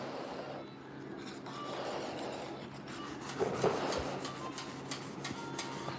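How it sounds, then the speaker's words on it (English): Sandpaper rasps back and forth over the front grill of a 1968 C10 pickup, dry-sanded with 400 grit in continuous close scraping strokes with a faint rhythmic pattern. "So this is 400 grit, dry."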